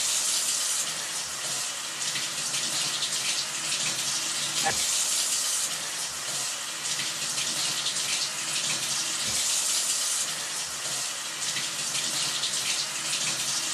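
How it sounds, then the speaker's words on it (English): Water runs from a kitchen tap in a steady, full hiss with no breaks, and a few faint soft knocks sound beneath it. "Okay, we're gonna turn off our water."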